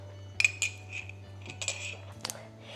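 A sweet potato dish with salty paste is stirred in a bowl, giving a few light clinks and scrapes of utensil against dish over a steady low hum.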